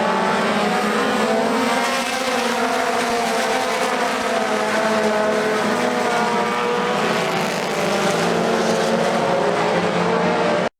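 Race cars roar around an SCDRA track in a continuous loud engine drone, with steady high revs held close by for the full length and no talking.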